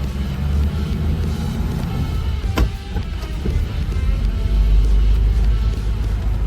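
A 1979 Chevrolet Opala pulls away from a stop in first gear, its low engine rumble steady and close throughout, with a brief sharp click near the middle.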